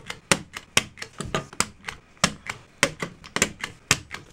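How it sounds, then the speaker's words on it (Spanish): Fabric and paper being stapled together with a hand stapler for a handmade Valentine's gift, heard as a quick run of sharp, close clacks and snaps in an uneven rhythm with short pauses, no voices. "Aquí engrampamos. Por aquí también engrampamos."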